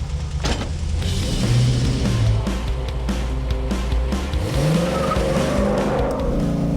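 A 1992 Camaro built for autocross accelerates hard, its engine roaring loud and close as it climbs through the revs for several seconds, with rising pitch sweeps near the end.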